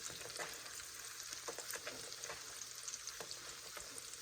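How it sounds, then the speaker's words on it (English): Potato cakes, flattened by hand, fry steadily in a pan, giving a quiet continuous sizzle with soft crackles scattered throughout, no voices. "now we're just going to cook these till they're brown on each side"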